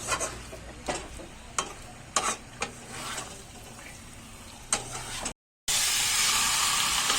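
Chicken with spices stirred in a pan for curry, a steady close frying hiss broken by repeated scraping strokes of the spoon, ending in a louder burst of hiss.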